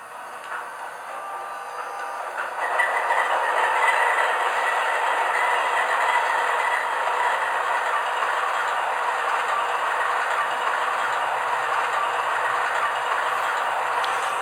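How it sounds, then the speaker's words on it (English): A ScaleTrains BC Rail Dash 9 model locomotive plays diesel sound through its onboard speaker, a steady rumbling engine drone that ramps up after a quiet start and then holds constant at moderate volume. "the speaker in the locomotive isn't crazy loud"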